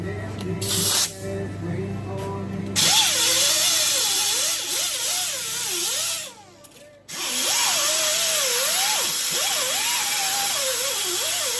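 A power tool whines on a 1949–51 Mercury being air-bagged, sanding a weld: a loud, close grinding hiss with wavering pitch as pressure shifts, cutting out briefly twice before spinning back up.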